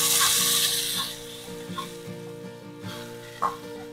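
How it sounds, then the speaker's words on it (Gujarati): Yogurt stirred into sautéed garlic tempering with the flame switched off: a hissing sizzle that fades over the first seconds, followed by rhythmic spoon scrapes and taps in the pan, close and alone. "ગેસની ફ્લેમ બંધ કરીને હલાવતા હલાવતા 100 ગ્રામ જેટલું દહીં એડ કરીએ."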